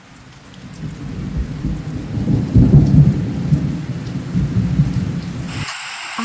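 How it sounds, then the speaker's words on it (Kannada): Thunder rolls and rumbles through a loud thunderstorm with wind and heavy rain pouring steadily, building toward the middle before cutting off abruptly near the end, with no voices. "ಬಿರುಗಾಳಿ, ಸಿಡಿಲು ಮತ್ತು ಮಳೆ ಜೋರಾಗಿ ಸುರಿಯುತ್ತದೆ."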